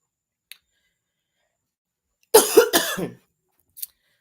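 A short burst of several harsh coughs close to the microphone, surrounded by near silence and a couple of faint clicks.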